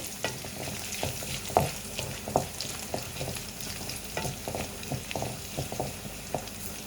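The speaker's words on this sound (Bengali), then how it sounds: "এই যে এখন আমি বাগারটা দিয়ে দিচ্ছি।" A tempering (bagar) for dal and vegetables sizzles in a pan under a busy rhythm of spoon clatters and scrapes, the frying hiss steady and close.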